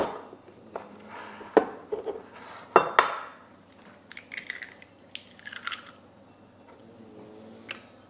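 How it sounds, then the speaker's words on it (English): Eggs cracked into a separate mixing bowl while preparing a zucchini baking batter, giving a few sharp crunchy shell cracks and clinks against the bowl, close by and spaced over several seconds with softer kitchen handling noises between. "Then in a separate bowl, we're going to crack our eggs."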